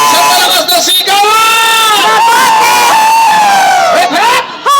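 A large crowd of overseas Filipino workers at a community event in Bahrain shouts and cheers loudly and continuously, a sustained roar of many voices close up with a few brief dips.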